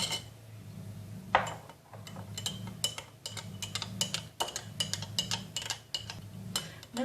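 A spoon clinks repeatedly against a cup while stirring honey into a drink, giving steady light ticks and taps over a low background hum, with no talking.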